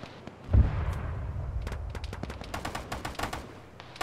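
Heavy machine gun fire in the military video game Arma, with a loud boom near the start followed by a string of sharp, rapid gunshot bursts at middle distance, with no talking.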